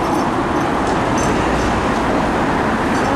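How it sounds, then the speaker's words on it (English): A tram passes along a busy Hong Kong street, a loud, close, continuous rolling rumble with rail noise over a wash of general traffic sound and no talking. "here comes a tram now, actually"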